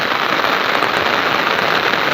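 Steady rain pours down in a dense, even hiss with no breaks, close and fairly loud throughout.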